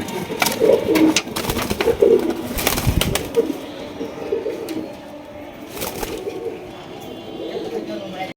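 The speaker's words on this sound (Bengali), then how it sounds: "একজোড়া জ্যাকোবিন কবুতর দেখতে পাচ্ছেন" A pair of Jacobin pigeons, one yellow and one dun, coo repeatedly close by in soft, throaty bursts, with some wing flutters and other birds around them.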